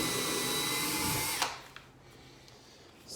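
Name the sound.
drilling holes with multi-purpose drill bit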